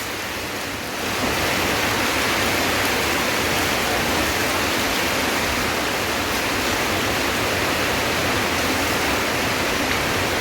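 Strong rainwater rushes and overflows after heavy rain, a loud, dense, unbroken roar that surges in after a brief quieter start and holds steady throughout.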